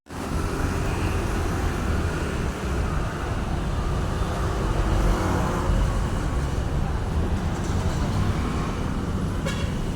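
Busy Jakarta street traffic with cars streaming past, a continuous close rumble of engines and tyres with a brief horn toot near the end, no break in the flow.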